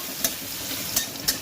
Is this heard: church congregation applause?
no